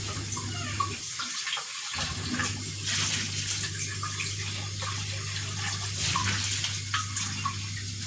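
Hot water from cooked pasta pours into a kitchen sink as it is drained, a steady, fairly soft gushing rush that lasts throughout with a brief dip early on.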